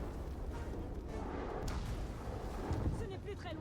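Siege weapon explosions in a video game come through as a continuous low rumble of distant booms, with a faint voice running over the dense, muffled battle noise.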